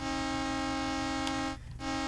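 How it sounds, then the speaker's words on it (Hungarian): Train horn in the Brick Rigs video game, a loud sustained multi-tone blast holding steady for about a second and a half, then cutting out briefly before resuming. "Vonat Duda."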